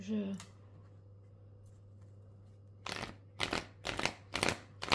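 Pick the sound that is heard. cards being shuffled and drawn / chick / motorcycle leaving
cards being shuffled and drawn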